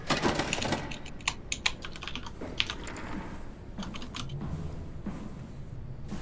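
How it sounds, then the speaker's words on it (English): Fast typing on a computer keyboard, with quick, irregular clicks and key taps, close and fairly faint, over a low background hum. "We've got a lot of typing sounds coming through"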